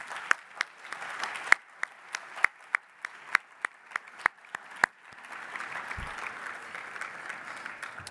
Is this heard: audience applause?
yes